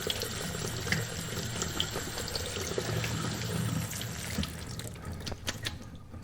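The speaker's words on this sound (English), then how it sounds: "We're going to let the water run just lightly." Tap water runs in a steady, gentle stream over beans in a sink, splashing softly, then stops near the end with a few clunks.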